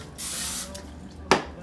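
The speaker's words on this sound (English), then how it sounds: "first let's spray our pan" Cooking spray hisses onto a baking pan for bread pudding in a home kitchen, one steady half-second burst followed by a brief second spritz and a small clunk as the can is set down, with faint talk around it.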